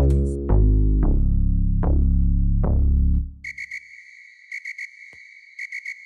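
A deep, tonal bass beat hits several times, then a high electronic whistle-like tone pulses in short repeated bursts over a quiet background, in an amapiano beat.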